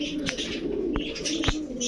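Female Pakistani Rampuri pigeons coo softly up close, low repeated calls mixed with a few sharp chirps over a faint background hum.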